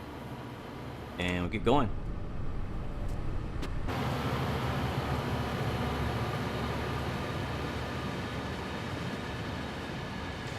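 A CSX freight locomotive in Train Sim World 2 rumbles steadily as it powers up at full throttle, a dense continuous drone under a brief spoken line near the start.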